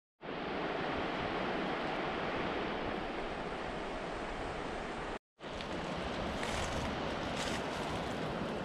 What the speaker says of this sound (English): Ah, made it to the river.